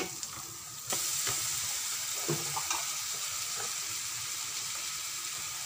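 Vegetables cooking in a pan with curry powder and chili powder give a steady close sizzle, with a few soft stirring scrapes and taps spread through it.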